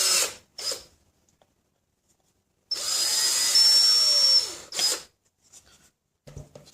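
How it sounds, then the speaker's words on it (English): A step drill bores out the plastic casing of a solar garden light in short bursts, a high whirring grind with rising tones at close range, separated by near silence and a few small handling clicks. "And we'll drill that out using the step drill."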